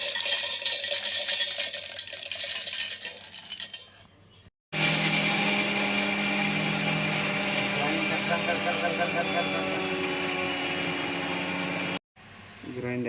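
A mixer grinder pulverises chana dal into powder with a loud, steady whirring roar that lasts about seven seconds and cuts off abruptly. Quieter handling sounds and talk come before it.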